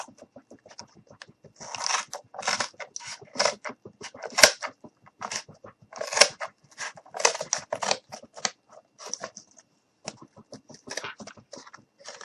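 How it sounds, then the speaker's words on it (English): Scissors cutting cardboard for a cardboard dumpster craft, a close series of crisp snipping and crunching cuts in irregular bursts separated by short pauses. "now we're going to take our scissors and we're just going to cut this off."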